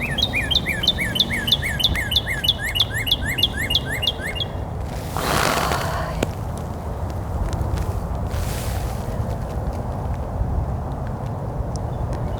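A northern cardinal sings a rapid series of clear, whistled chirps, then goes quiet; outdoor background noise and a brief rustle follow.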